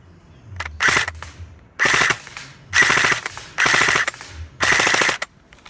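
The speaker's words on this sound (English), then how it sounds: "we're gonna aim for the bottom side of this target, and we're gonna go ahead and shoot" A gun is test-fired at a target on a shooting range in five loud, close bursts of rapid automatic shots, separated by short pauses.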